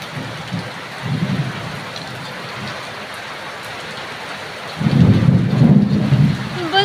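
Heavy rain pours steadily, broken by two rolls of thunder, a brief one early on and a longer, louder rumble near the end, with no voices.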